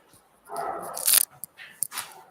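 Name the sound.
dog Gordon barking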